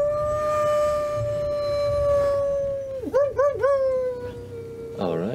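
A person imitates a dog howl, a long sustained piercing tone that ends in wavering yelps, while other voices murmur and laugh underneath during a tabletop game session.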